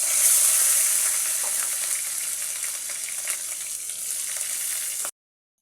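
Chopped tomato, ginger paste and green chili fry in hot mustard oil left from frying fish with black cumin, giving a continuous moderate sizzle with occasional stirring scrapes, alone, before the sound cuts off abruptly.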